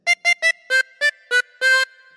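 Seven bright, close harmonica notes play alone, a short phrase from The Grand Old Duke of York, with the last note held a little longer.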